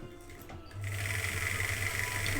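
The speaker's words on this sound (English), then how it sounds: "I'm just gonna like do a couple of back stitches at that shoulder seam." Sewing machine back stitching a shoulder seam, a short pause then a steady close mechanical whir of the needle running continuously for about two seconds.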